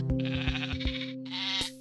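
Sheep in the colony-building game The Colonists bleat in a quick series of wavering calls, close and clear, over a steady background tone.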